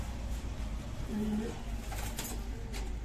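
Pigeons from a pair offered for sale give a brief, soft, low coo midway through the clip, set against steady background noise.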